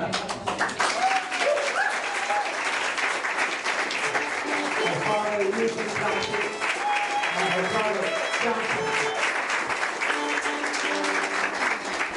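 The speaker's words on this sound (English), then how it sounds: "give a great ovation to these people from the north of Ireland and from New York via Cape Cod" Sustained applause and ovation from a live audience for Irish folk performers from the north of Ireland and New York at Boston College, a steady dense clapping filling the hall with voices mixed in.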